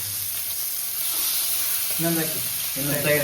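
Fish fries in a pan at home, a continuous loud sizzling hiss with bubbling crackle, joined by brief voices talking near the end.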